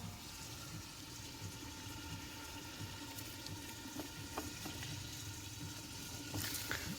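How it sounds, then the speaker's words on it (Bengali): A small amount of water poured into a cooking pot at an outdoor picnic cook-up in the Sundarbans, heard as a steady, close trickle and splash over faint background noise, with no talking. "বেশি জল দেবো না হালকা জল দেবো আর একটু চাপা দিয়ে দিই"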